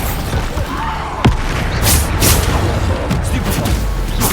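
Bombarda spell explosions from the Hogwarts Legacy video game sound as a loud, dense barrage of booms and bursts, one sharp blast standing out early, over continuous game noise.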